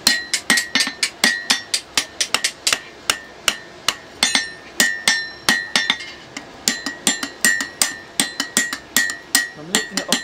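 Blacksmith hammer striking a hot 10 mm square steel bar on an anvil to upset its end, sharp ringing metallic blows in irregular quick bursts with brief pauses, close and loud, no talking.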